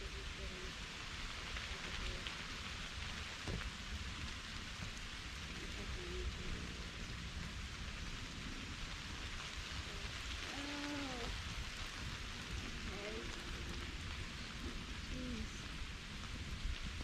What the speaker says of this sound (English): you can hear the rain is trying to pick up.